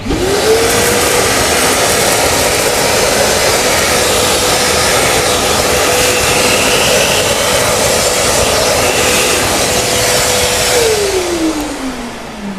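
An Ihlas Aura Stilvac water-filter vacuum cleaner sucking up spilled tea leaves, its motor whining up to a steady loud roar with rattling debris, then spinning down at the end.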